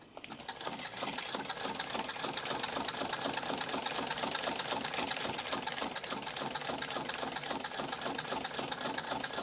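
An 1898 Singer 28-2 sewing machine winding thread onto the spool, a steady close mechanical whir with a fast, even rhythmic chatter running continuously throughout and no talking.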